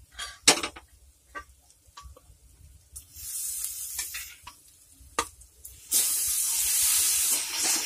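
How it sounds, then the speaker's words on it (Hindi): Boiled vegetables for pav bhaji go into a pan of frying spices, with clattering spoon scrapes and knocks against the pan, then a sudden louder hissing sizzle that persists to the end. "तो मैंने इसमें सारी सब्जी डाल दी है।"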